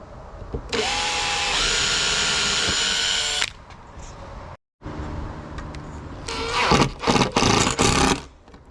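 A power drill pre-drills shallow holes in hardwood for T-nuts on custom van flare boxes, its motor whining steadily for a few seconds, then briefer bursts of drilling and handling clatter follow up close.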